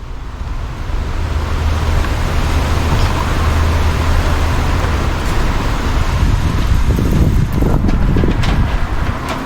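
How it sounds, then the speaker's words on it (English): Steady, loud wind buffeting the microphone, a continuous rushing roar with low rumble throughout. "Very windy today."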